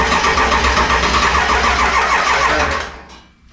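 A 7.3 Powerstroke diesel in an engine swap cranks hard with a rhythmic, loud, close starter chug, nearly catching before winding down and stopping after about three seconds.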